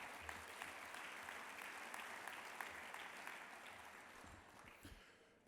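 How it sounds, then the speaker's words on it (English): Large audience at a banquet hall giving a sustained round of applause, dense and even clapping that fades slightly near the end, with no talking over it. "give yourselves a round of applause for having the biggest crowd we've had ever here"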